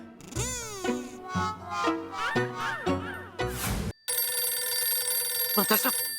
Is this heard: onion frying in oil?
no